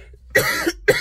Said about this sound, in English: I'm sorry that I am coughing